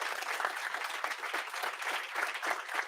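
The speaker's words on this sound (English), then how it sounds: "So warm applause, please." An audience at a tech founders meet-up applauds after the founders' pitches, a dense, continuous burst of clapping from a moderate-sized crowd, fairly close and steady throughout.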